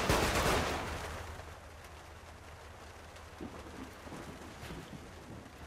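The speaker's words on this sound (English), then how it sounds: "Someone's shooting at me there." Distant gunfire crackles in the video game Saints Row The Third, with a loud opening burst that fades into scattered, faint shots and low rumbling.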